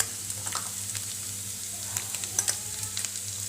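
Crushed green peanuts sautéing in oil with ginger and chilli for a fasting-style chevdo, giving a steady soft sizzle with scattered light stirring scrapes close to the pan, no talking.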